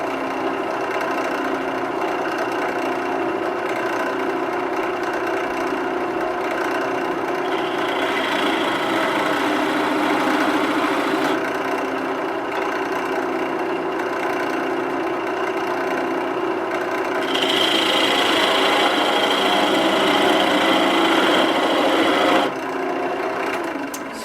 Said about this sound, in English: so I'm going to texture that now.